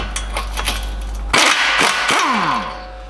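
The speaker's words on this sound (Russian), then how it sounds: "Так, откручиваю удлиненной головкой." A ratchet with an extended 21 mm socket loosens a front suspension arm bolt on a 2022 Ford Mustang 2.3, a close run of quick metallic clicks followed by a sharp clank and ringing metal.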